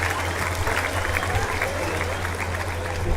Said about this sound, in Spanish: Fuertes y calurosos aplausos.